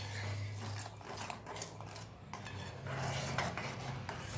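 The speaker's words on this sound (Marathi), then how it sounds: "आता यामध्ये दोन चमचे मी साखर घालणार आहे" A metal spoon clinks and scrapes against a pot while sugar is stirred into sago kheer, in soft, close, irregular taps with no speech.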